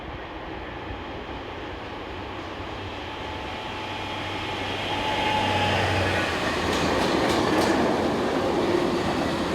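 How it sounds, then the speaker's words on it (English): Diesel locomotive 75075 rumbles past heading west with a string of empty ballast hoppers, a steady low engine drone and rolling wheel noise that swells gradually, with a brief metallic screech near the end. "diesel locomotive number 75075, heading west with a set of empty ballast hoppers."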